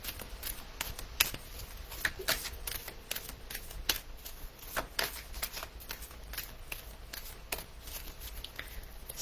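Oracle cards being shuffled and handled by hand to draw a single card, a steady stream of soft, close riffling and flicking taps lasting throughout with no talk.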